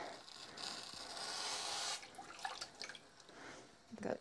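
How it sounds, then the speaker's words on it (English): Pre-soak water poured into a yarn dye pot on the stove, a steady close splashing and trickling for about two seconds, followed by scattered drips and small splashes. "I'm just going to pour in the pre-soak water."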